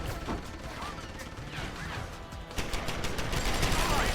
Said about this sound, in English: let's shoot at the turret from in front of me